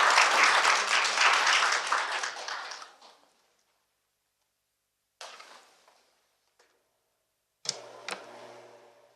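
Audience applause at a national assembly policy forum, a dense burst of clapping for about three seconds that fades out, followed later by a few brief clicks and rustles.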